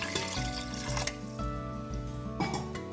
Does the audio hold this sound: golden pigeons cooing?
no